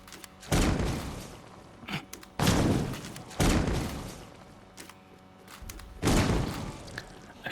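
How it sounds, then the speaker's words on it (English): Loud explosion effects from the video game DRDR in infinity mode, four heavy booming bursts about a second long spaced irregularly, each with a sharp onset and a decaying rumble over quieter game background. "I feel like that explosion sound is really loud."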